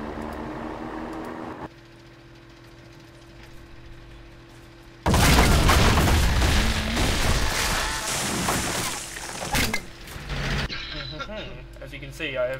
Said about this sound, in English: 52mm howitzer